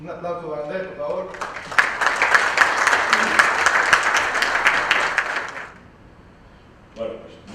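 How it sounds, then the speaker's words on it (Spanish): An audience at a round-table panel applauds a speaker, a dense burst of clapping that swells and then fades away, with a voice briefly heard before and after it. "Un aplauso para Andrés, por favor."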